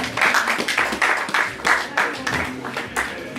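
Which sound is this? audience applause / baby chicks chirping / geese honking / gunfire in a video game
audience applause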